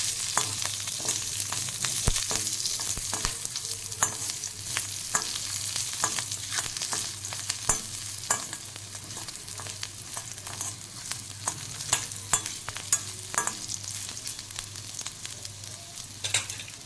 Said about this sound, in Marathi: लसूण हे तुम्ही दोन मिनटं चांगलं परतून घ्यायचं